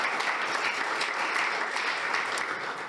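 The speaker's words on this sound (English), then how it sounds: "Please give her another round of applause." A room full of people at an evening talk applauds a speaker, a dense, even wash of clapping that holds steady throughout the few seconds.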